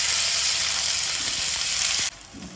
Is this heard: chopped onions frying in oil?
yes